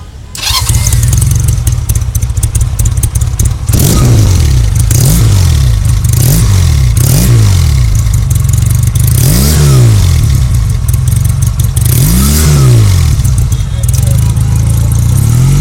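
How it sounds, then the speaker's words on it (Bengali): A Honda CD200 Road Master motorcycle with a double exhaust starts up close by, then idles with a loud, throbbing beat and repeatedly revs up and drops back, while people talk over it. "ভাই ইঞ্জিনটা ছাড়েন"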